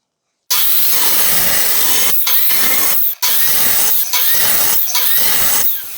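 A handsaw making a test cut in wood for a desktop stand: rasping strokes come one after another in a steady rhythm, close and loud, with brief pauses between bursts.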